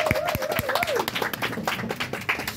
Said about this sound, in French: Ça mérite des applaudissements quand même.